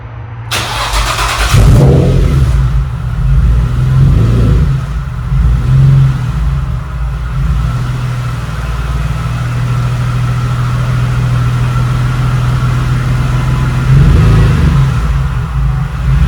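A 2003-2006 Nissan 350Z fitted with a Link G4X Xtreme ECU cranks and fires on its first start, then runs loud and close with a steady low engine drone and a couple of brief revs.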